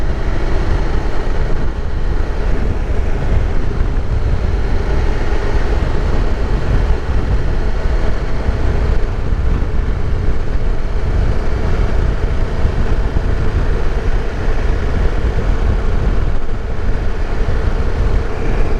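A 2023 KTM 1290 Super Adventure S motorcycle engine lugs at low revs while riding, a steady, loud, dense drone with wind rush that runs unbroken and close throughout, with no talk.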